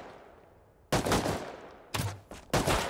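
Gunfire in the video game Rust: three loud, close bursts of rapid shots, the first longest, separated by short quiet gaps.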